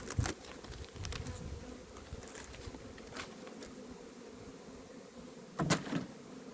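A few honeybees hum and buzz around a nuc colony, a soft continuous drone close by with a handful of brief louder passes and light knocks.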